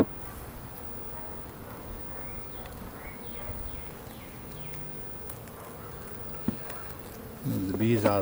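Honey bees buzz in a steady, close hum while a beehive is opened for inspection, with a few soft knocks and a louder handling clatter near the end.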